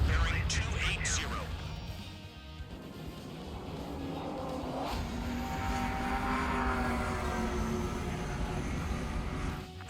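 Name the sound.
aircraft approaching at high speed in video game Ace Combat 7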